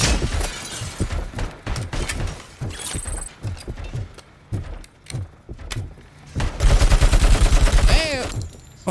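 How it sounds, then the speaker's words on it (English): Gunfire in the shooter video game Robocop Rogue City: rapid bursts of shots with mechanical clacks, then a dense sustained volley near the end, with someone talking in between. "Why the hell is my gun shooting?"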